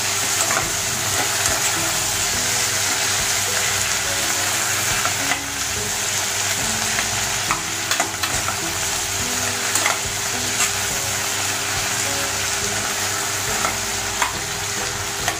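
Tomatoes sautéing in a pan for veg kurma, a dense continuous sizzle with frequent stirring scrapes and spatula taps, close and fairly loud, steady throughout with no speech.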